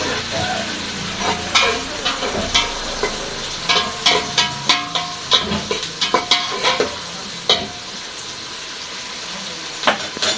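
Onions frying in a pan, stirred with a quick series of scraping, clattering utensil strokes over a constant sizzle, close and fairly loud.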